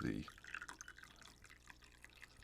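Hot water is poured over coffee grounds in a Chemex brewer, a thin trickling and dripping stream of liquid that starts with a brief louder splash and then continues softly and close, with a voice speaking over it.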